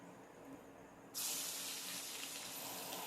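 Dried red chillies and curry leaves drop into hot oil for a prawn malai curry and erupt into a sudden loud, steady sizzling hiss that carries on without a break after a quiet start.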